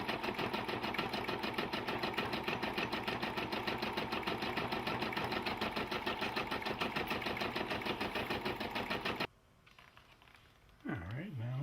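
A Brother PB6800 sewing and embroidery machine stitches in a fast, even mechanical chatter for about nine seconds, then stops, leaving quiet room tone and a brief faint sound at the end.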